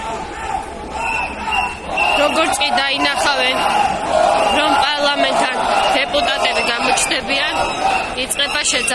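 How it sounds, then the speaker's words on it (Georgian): A loud protest crowd outside the parliament building shouts rhythmic "slave" chants, many voices overlapping continuously and close by, with a voice prominent among them. "იწყება შეძახილები მონა."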